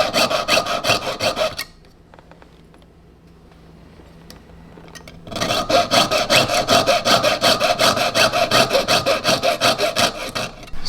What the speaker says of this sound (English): Just let the saw do the work.